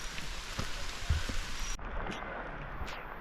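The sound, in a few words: rain falling on a hike to Bhimashankar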